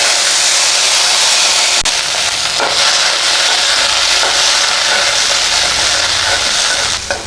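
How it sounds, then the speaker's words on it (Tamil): Small onions sizzle and sauté in a kadai for onion chutney, a loud, steady frying hiss that fills the whole stretch with a few faint clicks, and no one talks. "இதுவும் நல்லா வதங்கட்டும்."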